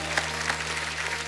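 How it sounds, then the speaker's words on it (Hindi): Studio audience clapping on a Hindi comedy talk show, a steady dense patter of many hands with a few sharper claps standing out over a low constant hum. "उनके लिए जोरदार तालियां हो जाएं।"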